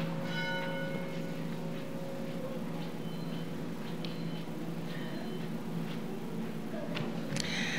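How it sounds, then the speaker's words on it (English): The church bell of First Congregational Church, UCC, in Mountain Home, Idaho, rings in a slow, steady series of strokes at the start of Sunday worship, each clang fading under a soft, continuous room murmur. "we're going to begin our worship today with the ringing of our church bell."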